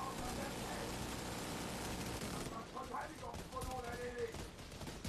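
Video game gunfire aimed at the Boomer boss: continuous rapid automatic shooting throughout, fairly loud, with a fainter stretch of sporadic shots near the end and talk mixed in.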